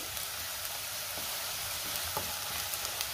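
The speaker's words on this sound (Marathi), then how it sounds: "आलं लसणाचा कच्चा वास जाईपर्यंत आपल्याला ही पेस्ट परतून घ्यायची तेलामध्ये" Ginger-garlic paste sautéing in hot oil in a pan for paneer masala, a soft, steady sizzle with occasional stirring scrapes and crackles, fairly quiet and close.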